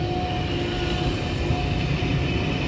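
Intercity Mark 1 and Mark 2 carriages roll past on a rainy day in a continuous, loud, close rumble of wheels and rushing air.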